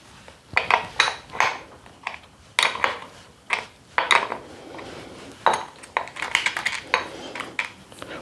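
A wrench works the 14mm lock nut on a dual sport motorcycle's stock mirror, giving close, intermittent metallic clinks and ratchet-like clicks in uneven bursts, with no talking.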